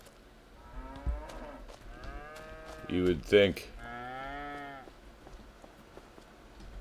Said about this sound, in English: Yeah, well, they're in here. We have 190 head of cattle now